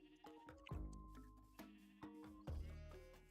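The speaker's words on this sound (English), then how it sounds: "Sheep. Sheep." Sheep in a Minecraft-style mining and crafting video game bleat in three or four wavering, nasal calls spaced about a second apart, heard clearly over a faint game backdrop.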